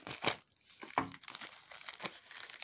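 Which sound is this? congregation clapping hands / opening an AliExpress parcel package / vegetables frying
opening an AliExpress parcel package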